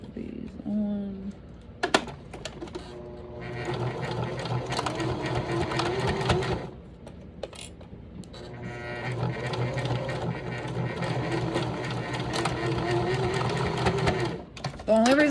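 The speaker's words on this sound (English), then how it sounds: "So let's go ahead and sew these on." A sewing machine stitches fabric strips onto a handmade waist bag in two long, steady whirring runs split by short pauses, close and loud, with a person talking quietly near the start.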